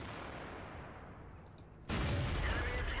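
A tank gun fires a single shot in World of Tanks, a sudden loud boom that cuts in abruptly over a steady engine-like rumble and rolls on heavily afterward.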